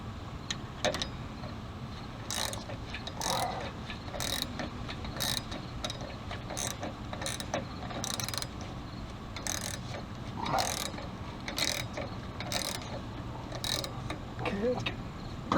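A ratchet tightening 16mm front shock bolts on a Ford Explorer, sharp clicking bursts repeating at irregular intervals over a low background hum, close and moderately quiet.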